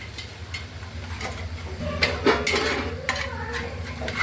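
A spoon stirring and scraping masala into cooked meat for biryani in a metal pot, with irregular clanks and knocks over a low steady hum.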